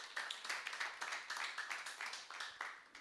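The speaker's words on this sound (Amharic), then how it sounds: "አጨብጭቡ ለጌታ ክብር።" Church congregation clapping together during a midweek service, a fairly quick, steady run of claps that stays moderately near, with faint voices mixed underneath.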